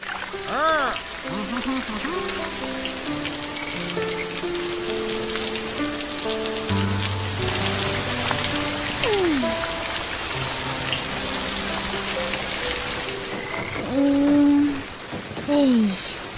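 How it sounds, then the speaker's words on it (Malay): Heavy, unbroken rain pours down in a cartoon scene, a dense steady hiss lasting throughout, with music and brief voices rising over it. "Boleh pula hujan lebat tak berhenti-henti."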